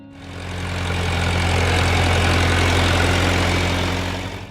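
A John Deere 3020 tractor engine idles steadily, a loud, close, low rumbling drone that holds constant throughout with no voices.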